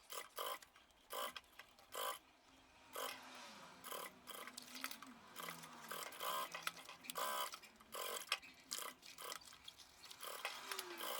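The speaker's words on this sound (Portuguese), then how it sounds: "a gente já pode passar uma costura para poder fechar um dos lados" A sewing machine runs a seam closing one side of a small fabric shoulder bag, in short bursts of rapid stitching separated by brief pauses, close and fairly quiet.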